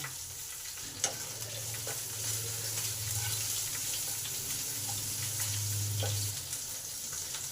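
Chopped onion with salt fries in a pan, a steady hiss of oil broken by spatula scrapes and a sharp clink near the start, no voices.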